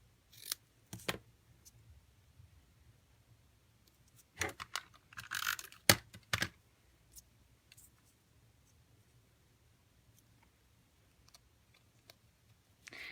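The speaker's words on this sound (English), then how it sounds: "let me snip the end of this first." Scissors snipping the end of a small paper scrap at a crafting table: a few crisp close cuts in brief clusters separated by quiet pauses.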